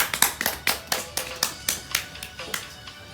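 Applause at a student public-speaking talk show: a small group claps in a loose, fairly even rhythm of about a dozen distinct hand claps, close by and otherwise quiet.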